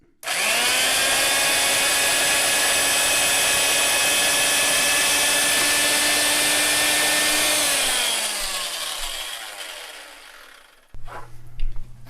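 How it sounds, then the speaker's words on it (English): A vintage Fein ASG 658 power tapper whines steadily at full speed while tapping a hole, its pitch sliding down as it slows near the end, followed by a brief clatter and a low hum. "So we'll go ahead and just try tapping it."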